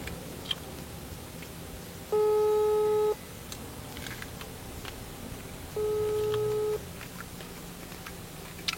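A telephone busy signal sounds twice, each tone lasting about a second with a gap of several seconds between, loud and clear over faint background room noise.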